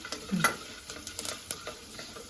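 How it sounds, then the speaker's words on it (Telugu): Urad dal and chana dal frying in a hot pan while being stirred, giving a quiet sizzle with several sharp scrapes and taps from the spoon. "మినపప్పు శనగపప్పు వేసేసాను. కలుపుకోవాలి మాడకుండా కలిపేసుకుని."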